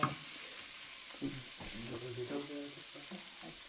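Onion sizzles in a hot pan for chicken kosha, a steady frying hiss. Soft stirring scrapes and clatters come and go over it at close range.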